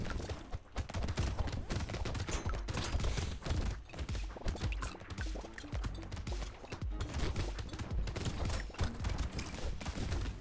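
Rapid game combat from Brotato, with turrets firing steadily at enemies as dense, continuous clattering shots and impacts that run loud and busy for the whole stretch, with no one talking.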